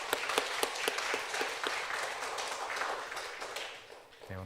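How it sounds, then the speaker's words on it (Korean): Church congregation applauding during a Sunday worship service, a dense wash of clapping with a few sharper claps standing out, steady for several seconds before tapering off at the end. "박수 또 격려의 박수 하시겠습니다."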